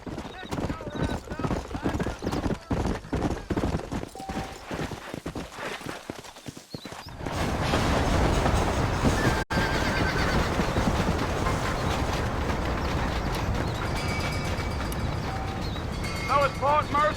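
Horse hooves clip-clopping steadily in the Western video game Red Dead Redemption, with an occasional whinny, first alone, then under continuous talking and a wash of background game sound.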